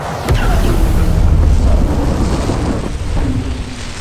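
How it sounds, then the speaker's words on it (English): A heavy rumbling roar with crackling debris and scattered clatter, like the aftermath of an explosion, fading slightly toward the end. "I layered in some debris sounds together with other cinematic sounds"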